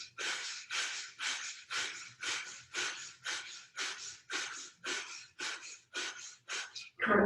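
Rhythmic breathing during yoga arm pumps, a steady series of about fourteen sharp, forceful breaths in quick even succession, close and fairly loud, ending in a louder burst.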